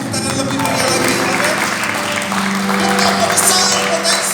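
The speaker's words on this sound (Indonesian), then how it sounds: "tepuk tangan lebih meriah lagi" A congregation claps during an online church service at GBI Rock Bondowoso, a steady, dense applause that runs throughout with music or tonal sound underneath.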